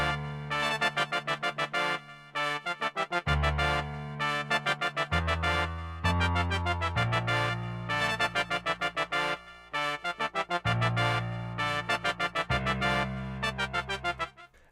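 Hip-hop beat melody of trumpets and trombones layered with piano, tweaked lower notes, playing in punchy repeating stabs over deep bass hits, loud and alone with no voices.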